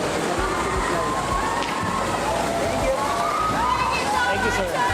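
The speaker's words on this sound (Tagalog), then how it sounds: "Grabe alon dito!" A resort wave pool in Marilao, Bulacan churns with loud, repeated sloshing surges of water, while people shout and cheer excitedly close by over the splashing.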